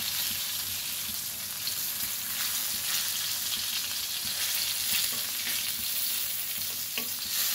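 Slices of pointed gourd (potol) fry in a pan of oil, giving a steady, close, continuous sizzle with faint crackle and no voices.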